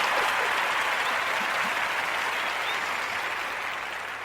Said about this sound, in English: let's celebrate your body with a huge round of applause.